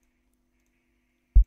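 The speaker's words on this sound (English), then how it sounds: "this is the rim" One short, sharp rim-shot hit near the end, otherwise silence.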